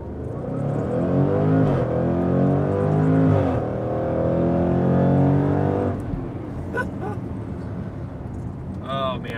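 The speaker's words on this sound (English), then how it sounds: "All right, so here we go, launch mode." A 2021 Jaguar F-Pace SVR accelerating hard in launch mode: a loud engine roar climbs in pitch through rising gear sweeps and shifts, then eases back to a lower rumble with light wind noise and a voice near the end.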